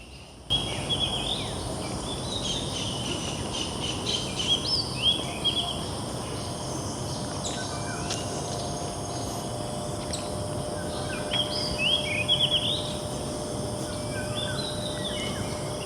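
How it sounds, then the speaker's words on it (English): Birds chirp and trill in short, scattered phrases in Taman Rimba Kiara park, Kuala Lumpur, moderately distant over a constant insect buzz and soft outdoor ambience. "It's nice to hear the birds, isn't it?"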